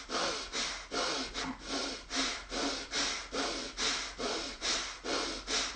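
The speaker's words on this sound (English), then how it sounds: "start to pump your breath in and out like you're fanning a fire" Rapid bellows breathing exercise, forceful breaths pumped in and out at a steady quick rhythm, about two per second, close and loud with no talking.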